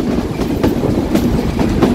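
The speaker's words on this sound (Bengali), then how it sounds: "এবং এই মুহূর্তে আমি চলেছি চিত্রা এক্সপ্রেস ট্রেনে" The Chitra Express passenger train rolls along the tracks with a loud, rhythmic clickety-clack of wheels over rail joints and a constant rumble.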